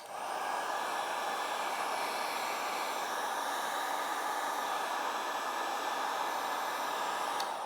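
A heat gun blows a steady, loud rush of hot air onto a heated ATV handlebar grip on a CFMOTO CFORCE, a continuous hair-dryer-like roar that holds unbroken for several seconds.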